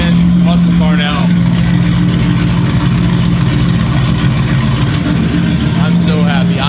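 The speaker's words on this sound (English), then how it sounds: "She sounds like a true American muscle car now." A deep, rumbling Ford Mustang engine idles loudly and steadily up close, with a throaty low drone and brief revving swells near the start and end.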